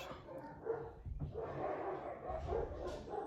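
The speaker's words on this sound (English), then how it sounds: "There's a strange man in our house. That's what my dogs are saying." Dogs bark at a stranger in the house, a few muffled, somewhat distant barks and whimpers against a faint indoor background.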